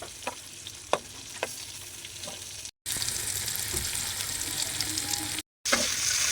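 Steady sizzling of pointed gourd frying in hot oil in a kadai, with occasional stirring clinks and scrapes; a brief silent gap interrupts the continuous crackle.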